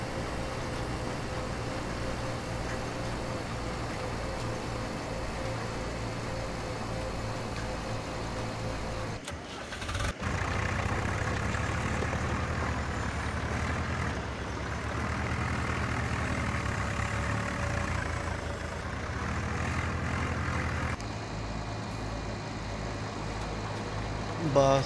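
A tractor engine idles and runs with a steady low rumble and chugging pulse, close and continuous, with a brief break and a shift in tone partway through and people talking around it.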